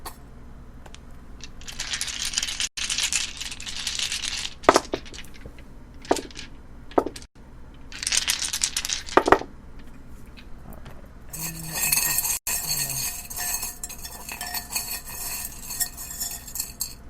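Dice handled and rolled during a card and dice reading, giving bursts of bright clattering and clicking that come in clusters, then a denser stretch of rattling toward the end, with no talking.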